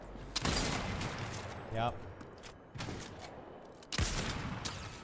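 Sniper rifle fire in a Fortnite no-build duo cash cup match, loud sharp shots with rolling echoes, one early and one near the end, mixed with game noise and a brief spoken word.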